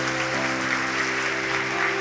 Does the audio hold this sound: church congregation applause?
yes